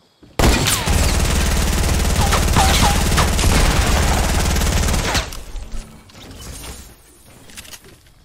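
Sustained automatic fire from a P90 submachine gun in the Fortnite video game, a loud rapid continuous burst lasting several seconds, then abruptly stopping and leaving quieter scattered game sounds and a few distant shots.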